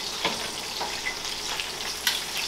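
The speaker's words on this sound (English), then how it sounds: "That is bacon perfected. You hear that sizzle?" Bacon fries in a pan beside halved potatoes, a steady close crackling sizzle broken by a few sharper pops.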